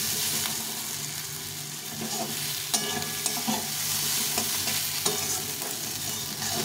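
Okra and onion fry with chilies in a pan, sizzling steadily while a utensil stirs them, with occasional scraping knocks against the pan and no talk over the cooking.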